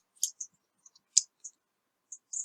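Computer mouse clicking while working in Opera PMS hotel software, a handful of sharp, close clicks at irregular intervals, some in quick pairs, against near silence.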